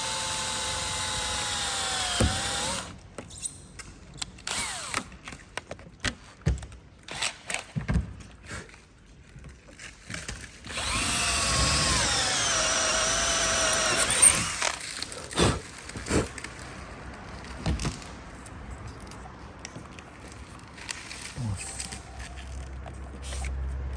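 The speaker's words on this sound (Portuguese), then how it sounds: "Como você está furando, acaba vindo uns poeirinhos pra cá ou lá" Power drill boring into a car audio panel in a Saveiro sound-system install: bursts of whining drill motor alternate with ratcheting, rattling tool noise and pauses, close and fairly loud, with no speech.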